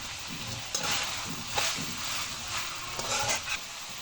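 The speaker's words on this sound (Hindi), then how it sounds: "तमाम सब्जियाँ ऐड करने के बाद मैं इसे अच्छे तरीके से मिक्स करूँगी" Chopped carrot, capsicum and cabbage being stirred together in a pan, giving a steady soft sizzle with several sharper scraping stirs spread across a few seconds, close by with no talking.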